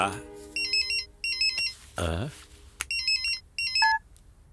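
A phone ringtone plays in repeated short electronic bursts, loud and close, with a brief voice and a thump breaking in partway through.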